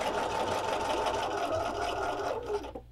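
A sewing machine fitted with an open-toed foot stitches steadily along a seam of a cross-stitch ornament, a close, continuous mechanical whir with no talking, slowing and stopping just at the end.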